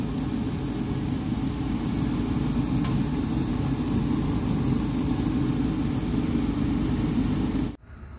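Small heater running just after ignition, a steady, fairly loud low rumbling hum with a constant drone that cuts off abruptly near the end.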